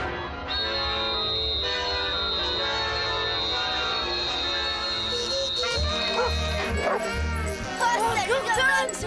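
A dog barks and whimpers in a French film scene, heard amid a busy music score and people talking, with yipping, whining calls rising toward the end.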